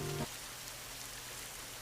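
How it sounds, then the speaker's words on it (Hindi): Heavy cartoon rain pours steadily as a dense, even hiss throughout, fairly faint and with no voices over it. "बारिश आ रही है, वो भी काफी तेज।"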